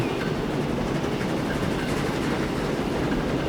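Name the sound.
train running on rails, video game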